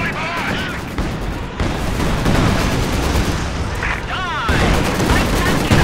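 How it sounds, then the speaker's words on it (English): Artillery barrage and gunfire in the Company of Heroes 2 war game, with a dense, continuous roar of shots and blasts throughout, mixed with voiced battle chatter. "Fire light artillery barrage!"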